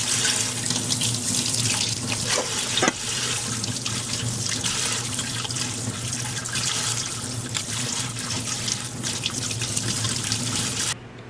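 A kitchen tap runs steadily under which shrimp are rinsed, a loud, continuous splashing stream with small shifts as the shrimp move in the flow, and then it cuts off at the end.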